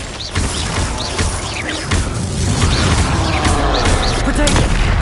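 Spell blasts and impacts in Hogwarts Legacy on PS5: booming explosions, whooshes and crashing hits follow one another in quick succession, loud and dense throughout, mixed with shouted incantations.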